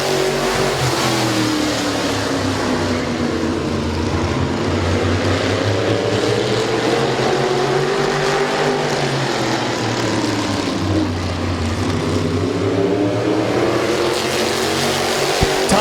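Race cars at Midvale Speedway roar together close by as a pack, engines rising and falling steadily through a long continuous pass on the track.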